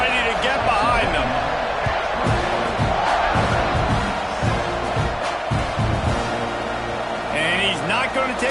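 Loud football stadium crowd roaring steadily before kickoff of a Texas A&M versus Alabama college game, a dense continuous wall of cheering with a commentator talking over it.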